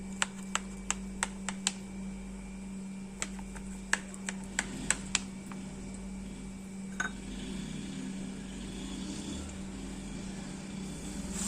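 A knife cutting through still-warm bread barfi, giving a series of crisp, sharp taps against the board in quick bursts, close and clear over a low steady background hum.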